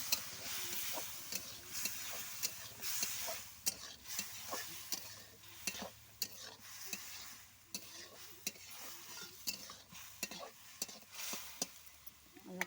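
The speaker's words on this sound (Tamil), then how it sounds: "இப்போ மீல் மேக்கர் சேர்த்துட்டு நல்லா கிளறி விட்டுடலாம்" Soya chunks (meal maker) are stirred into a potato and carrot kurma, giving soft, irregular spoon clicks and scrapes against the pot over a faint, low sizzle.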